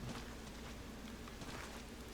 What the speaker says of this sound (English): The rain just doesn't let up here.